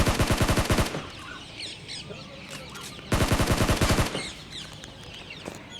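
Rapid automatic gunfire from a squad-based shooter video game rattles in two loud bursts, one at the start and another after a pause, with faint clucks like a chicken between them.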